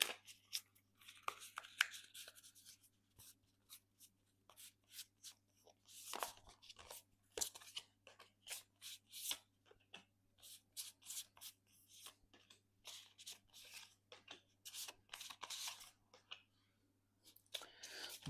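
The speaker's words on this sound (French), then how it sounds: "le tirage effectué est un tirage de cheminement d'évolution par rapport au thème évoqué, donc la santé de Phil Collins" Oracle cards being shuffled and drawn by hand for a card reading: a quiet, continuous run of soft papery rubs, flicks and clicks, fairly close, with a steady low hum underneath and no talk.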